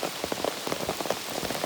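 Steady rain patters on a surface and soaks the gear of a hiker on the Appalachian Trail, a dense, continuous hiss of drops close by with no voices.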